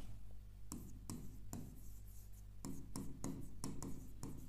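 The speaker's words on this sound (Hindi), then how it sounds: "अब मैं एग्जाम्पल्स को लिख देता हूं" Chalk or marker strokes sound on a classroom board as maths examples are written: a series of quick, faint scratchy taps and short strokes in irregular rhythm over a low steady hum, with no talking.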